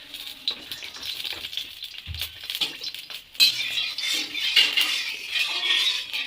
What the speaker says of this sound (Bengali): কড়াইটা গরম হয়ে গেছে, দিয়ে দেবো সাদা তেল।